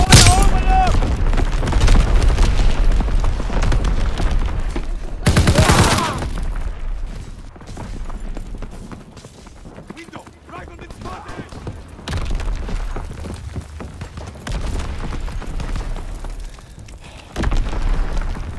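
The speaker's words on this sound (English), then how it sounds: "Incoming enemy artillery. Get to cover." Incoming enemy artillery in a military video game, heavy booms and rumbling blasts stacked with crackling gunfire, loud and dense throughout, with a burst of especially strong impacts partway in.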